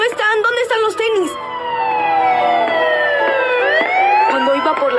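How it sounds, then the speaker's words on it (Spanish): Police car siren sweeping up and down in long wailing glides, loud and close, following a few brief yelping whoops. "escuché las patrullas tras de mí"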